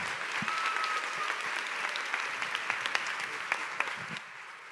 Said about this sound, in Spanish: Vamos a recibir con un fuerte aplauso a estos tres grandes invitados